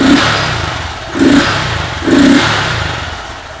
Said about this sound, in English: See how awesome the fury of our stock exhaust here.